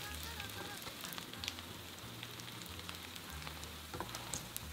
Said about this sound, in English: Pan fry until golden brown for about 2 minutes.